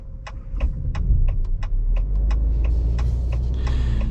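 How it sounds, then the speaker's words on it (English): A 2023 Maserati Grecale SUV's engine restarts through its start-stop starter generator while waiting at a traffic light, a low rumble that swells and then settles into a steady idle, with the regular ticking of a turn signal on top. "the starter generator did a pretty good job of being quick and not so jerky with starting the vehicle up from a stop"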